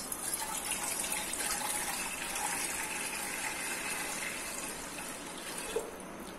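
Water pours steadily into a cooking pot as sweet jaggery rice is prepared in a home kitchen, a continuous close gushing stream that runs for several seconds without a break.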